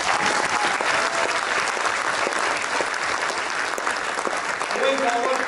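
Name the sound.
applause for Sai Prasad Vishwanathan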